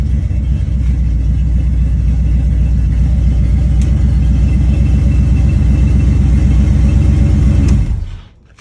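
A loud, deep 1975 Chevrolet Nova engine with headers, 2.5-inch piping and Super 44 mufflers rumbling steadily with a throaty exhaust note, close by, cutting off abruptly near the end.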